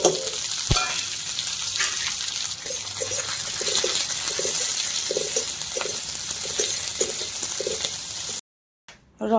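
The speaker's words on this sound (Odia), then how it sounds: "ଏବେ ପିଆଜ ଆଉ କଞ୍ଚା ଲଙ୍କା କାଟିକି ରଖିଛି ଦେଇଦେବି" Chopped onion and green chilli go into oil already tempered with spluttering seasoning, giving a steady loud frying hiss with faint intermittent bubbling pops, briefly cutting to silence near the end, with no talking.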